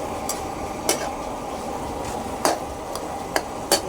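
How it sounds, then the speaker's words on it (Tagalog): Chicken adobo is stirred in a boiling pot; a handful of sharp spoon-against-pot clicks and scrapes ring out irregularly over a soft, steady bubbling hiss, with no talking. "Ayan, haluin natin guys."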